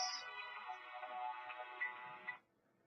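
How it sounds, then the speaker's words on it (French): A mobile phone ringtone plays at a moderate level, a bright electronic melody lasting about two and a half seconds before cutting off abruptly, with no voices over it. "Désolé pour le téléphone qui sonne."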